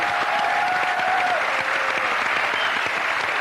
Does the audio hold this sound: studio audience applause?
yes